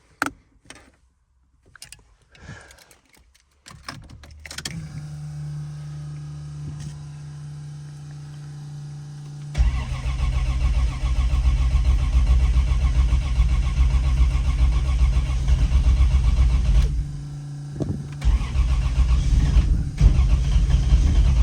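A 300,000-mile Jeep Cherokee XJ cranks in cold, frosty weather, catches after a few seconds and settles into a loud, steady, rumbling idle close by, with a brief dip and recovery near the end.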